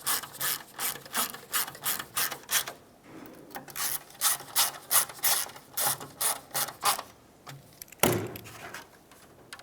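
Small screws being driven back into a grille emblem for a 1996-2002 Toyota 4Runner, heard as a close run of rhythmic ratcheting clicks in short bursts, with a sharper knock near the end and no talking.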